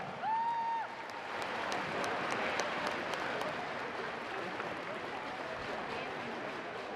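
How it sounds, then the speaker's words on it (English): Arena audience applauding at the Singlife Nations Cup 2025 netball final between Kenya and Singapore, a steady broad wash of clapping sustained throughout, with a few sharper claps and a brief tone near the start. "I think we can keep the applause going"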